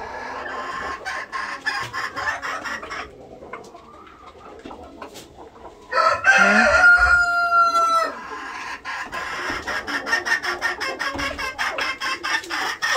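Chickens cluck and murmur nearby, and a rooster lets out one loud crow in the middle of the scene, among Brahma and Japanese silkie chickens.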